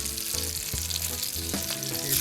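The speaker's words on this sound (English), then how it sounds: "I just want to sear it on the other side, and also give it that butter taste." Fish fried in butter in a pan sizzles with a loud, steady crackle, a close and continuous hiss with no voices.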